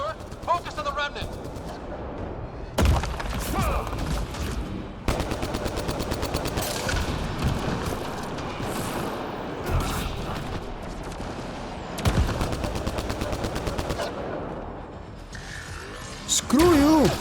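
Automated turret gunfire in the sci-fi game Mass Effect Andromeda, heard as loud, rapid bursts of repeated shots in several rounds, mixed with combat effects and voices talking over it.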